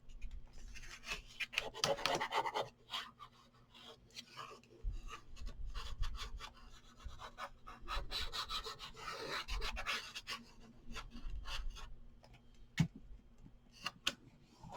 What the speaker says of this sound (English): burnish that in, smooth it down